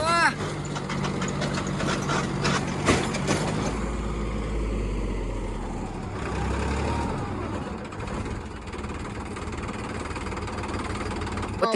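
A stuck tractor's heavy engine labours and revs loudly with a deep, uneven rumble that surges and drops, mixed with voices and clatter nearby.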